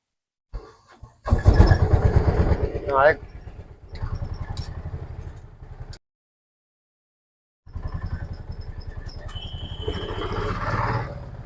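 Piaggio Ape BS6 auto-rickshaw engine with a fitted gearbox, revving and running on a test ride, loud and rough in two bursts separated by a short silence.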